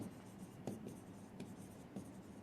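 Pen or pencil writing by hand on paper, quiet close scratching strokes with small taps and pauses over a couple of seconds.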